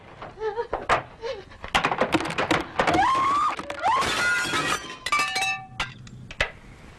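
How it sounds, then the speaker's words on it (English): Glass smashing and clinking with sharp crashing impacts, a rising tonal whine and scattered debris clatter, close and loud, in a radio drama scene at night. "Sounded like glass breaking."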